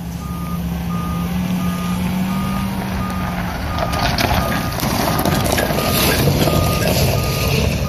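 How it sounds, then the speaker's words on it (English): A fuel tanker truck backs up near a rail yard where coal cars and a locomotive are fueling. Steady evenly spaced reversing beeps sound over a loud diesel rumble, the engine swelling partway through. "And then the fuel tanker's backing up."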